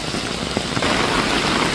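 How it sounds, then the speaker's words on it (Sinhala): Heavy rain pours down outdoors, a dense, loud, continuous hiss of drops with scattered close splashes and no voices. "දැන්නම් වහිනවා කියන එක සුපිරියටම වහිනවා."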